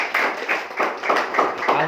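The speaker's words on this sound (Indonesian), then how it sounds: "Tepuk tangan semuanya." A class of children clapping hands in rhythmic bursts, about six quick rounds of claps, close and fairly loud, with voices mixed in.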